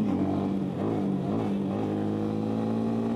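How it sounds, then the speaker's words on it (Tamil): Yamaha MT-15 motorcycle exhaust note, a steady loud droning engine tone with slight rises in pitch, continuous throughout without speech. "எக்ஸாஸ்ட் நோக் சூப்பராக இருக்குது."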